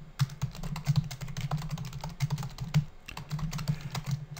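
Rapid, close typing on a computer keyboard, a dense run of light key clicks with a brief pause near the end, with no talking.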